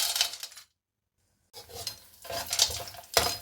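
Edible gum (gond) roasting in hot oil for ladoo, with loud, close bursts of sizzling and crackling, interrupted by about a second of silence and then resuming with stirring. No one speaks.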